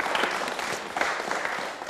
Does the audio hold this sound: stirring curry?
no